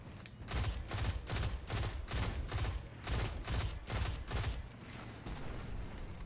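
A shotgun in the video game Destiny fires about a dozen rapid blasts in a quick, even rhythm, then pauses before more faint activity.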